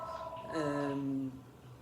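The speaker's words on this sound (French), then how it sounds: "Vous entendez le téléphone sonner." A phone rings indoors with a single tonal electronic chime that rises and then falls away over about a second, fairly quiet and on its own.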